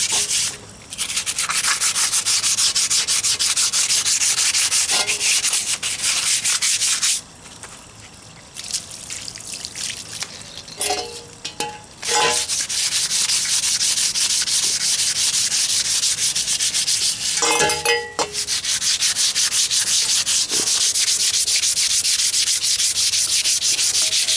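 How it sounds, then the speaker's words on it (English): Steady, continuous wet sanding on a tobacco pipe, a loud abrasive rubbing with wet trickling texture, pausing briefly a few times before resuming, with no talking. "Probably another 30 minutes of wet sanding."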